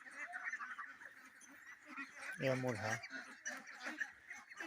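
Ducks on a duck farm, some recovering from illness, give a brief burst of loud quacking honks in the middle, with someone talking quietly throughout and other birds faintly audible in the background.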